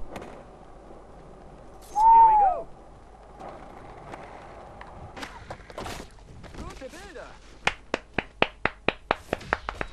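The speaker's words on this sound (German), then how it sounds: "Applaus." Applause in the skateboarding game Skate, a burst of sharp claps in the final seconds, coming after a rising whistle and scattered lower sounds.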